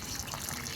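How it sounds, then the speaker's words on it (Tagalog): Water gushing from an opened garden tap before plants are watered, a soft steady splashing rush that continues without a break. "Yung gripa pakibuksan"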